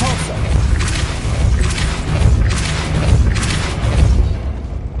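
In Hogwarts Legacy, a Depulso spell is cast, producing a loud, booming, whooshing burst of magic with rolling low rumbles, a few pulses over several seconds.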